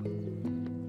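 A horse named Harry lets out a brief, tonal whinny with soft snorting, close by and clear, lasting about a second.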